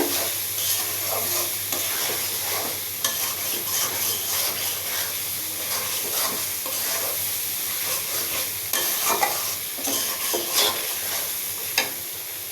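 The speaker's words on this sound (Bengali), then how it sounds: "মশলাটা সুন্দর করে কষাবে" Spice paste (masala) being stir-fried in a pan in a home kitchen, a steady close sizzle and hiss with frequent scraping stirs throughout, no talking.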